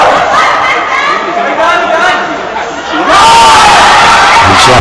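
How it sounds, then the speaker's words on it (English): Crowd noise at a Japan volleyball match near game and match point, a dense roar of voices and chatter that swells louder partway through, with broad cheering filling the arena. "You can hear it on the FX microphone,"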